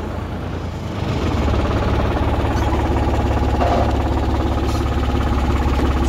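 A 2014 New Holland TT55 tractor engine revved with the hand throttle. It gives a steady, loud, close diesel drone that steps up in pitch and force after a second and then holds an even rumble, with no one talking.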